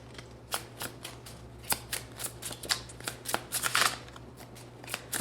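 A deck of tarot cards is shuffled close by, with quick irregular riffling flicks and soft slaps over a low steady hum.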